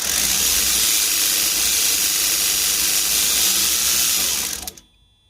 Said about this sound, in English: I think then we'll be able to give it a test and see if the motor is back in action